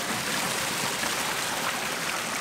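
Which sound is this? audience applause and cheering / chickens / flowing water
flowing water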